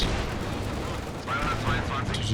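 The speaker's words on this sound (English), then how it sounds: "Here goes the mortar team, well targeted." Mortar team firing during a 2v2 Company of Heroes 2 match, the launches blending into steady, dense battle noise of gunfire and booms with game voice chatter running underneath.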